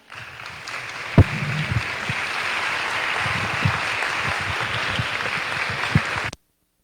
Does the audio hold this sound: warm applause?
yes